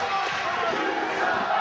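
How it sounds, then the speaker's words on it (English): Wrestling crowd roaring during a title match between Steve Corino and Al Snow, a dense, loud, continuous wash of cheering and shouting from the arena audience. "the crowd getting fully into it"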